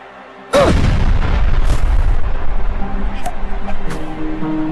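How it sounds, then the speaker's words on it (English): A grenade in the Worms video game goes off with a sudden loud boom after a brief quiet moment, then a rumbling blast tail fades slowly under faint game effects. "Kaboom grenades!"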